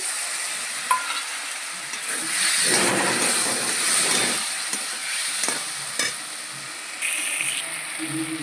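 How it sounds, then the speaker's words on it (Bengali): A spice paste of turmeric and chili powder with a little water sizzles and hisses in a pan, with soft stirring scrapes and occasional clinks, moderately quiet and steady. "মশলাটা ভালো করে কষানো হয়ে গেছে"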